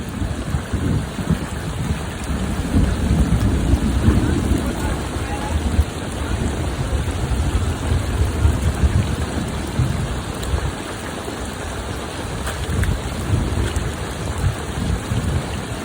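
Heavy rain pours steadily during a storm while jute is washed outdoors, with low rumbles suggesting thunder beneath the dense, continuous hiss of rainfall.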